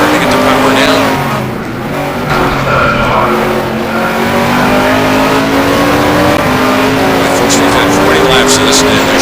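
GT1 race cars at Anderstorp brake hard and accelerate, their engines loud and close with rising and falling revs and tire noise, while a commentator talks over them throughout.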